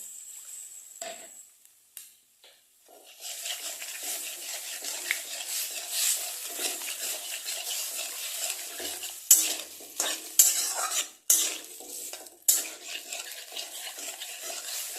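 A utensil stirs chicken stew in a pan, scraping and rubbing against the metal over a soft steady sizzle, with a few sharper clinks near the end and no speech.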